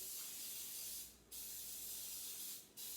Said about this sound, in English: I put it in one of these little bread pans, but I need to spray them first